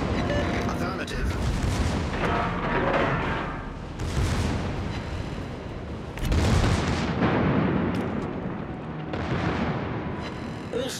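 Heavy naval guns of the Japanese battleship Kii fire in World of Warships, several deep, booming salvos rolling out across the whole stretch, each swelling and fading into rumbling background battle noise.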